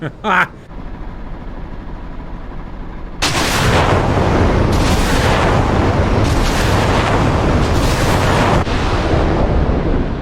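Missiles launch and explode in a war video game with a Shahed-136 kamikaze drone swarm against NATO defenses. Heavy continuous roaring blasts swell sharply after a few seconds, and repeated booms ride under a voice.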